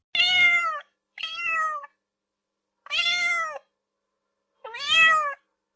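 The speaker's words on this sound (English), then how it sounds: "Cat." A cat meows four times, each call clear and close with pauses between them, with no other sound present.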